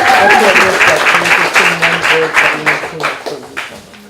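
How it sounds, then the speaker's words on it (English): A crowd at a social justice center event claps enthusiastically, a dense burst of applause that gradually thins and fades over a few seconds. "One more round of applause."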